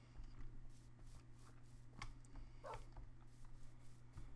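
A tamed dog in the Minecraft video game gives a few soft, short barks and whimpers, faint and low under a steady background hum and game noise.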